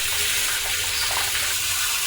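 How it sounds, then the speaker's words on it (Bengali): Water streams steadily from a kitchen tap into the sink, a constant loud hiss and splash with no pauses. "এদিকে জল পড়বে।"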